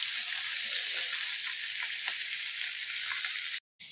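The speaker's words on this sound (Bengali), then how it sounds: "ওর জন্য একটা মাছ ভেজে দেই।" A fish fries in a pan with a steady, close hiss of sizzling oil. There is no talking, and the sound cuts out briefly just before the end.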